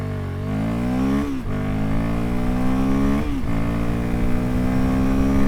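A 2025 Royal Enfield Guerrilla 450 single-cylinder motorcycle pulls hard with rising engine pitch, dips briefly through two upshifts, and climbs again each time, loud and steady from the rider's position.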